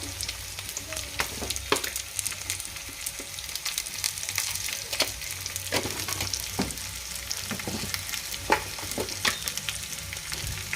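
Okra fry seasoned with chilli powder and salt, stirred in a pan: a continuous close sizzle of frying oil with frequent sharp scraping and tapping strokes of the spatula in an uneven rhythm.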